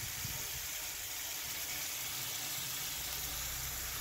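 Thankuni leaf paste hits hot mustard oil with black nigella seeds, giving a steady, bright sizzle and hiss that holds evenly throughout with no talking.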